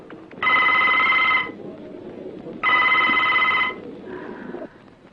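A telephone rings in two long electronic bursts with a short pause between them, then a fainter tone, in a Bengali film scene where a call is placed to a police station. Quiet room tone fills the gaps and no one speaks.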